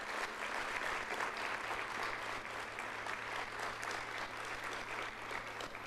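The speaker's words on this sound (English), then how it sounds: "Let's give them a round of applause." Sustained, dense applause from a large conference audience honouring keynote speakers at a closing session, an even wash of many hands clapping that stays steady and full from start to finish.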